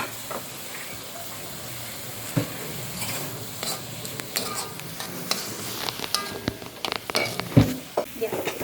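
Spices sautéed in a pan for tekwan fish soup sizzle softly while a spoon stirs and scrapes, giving louder irregular clatters toward the end, with a voice speaking faintly in the background.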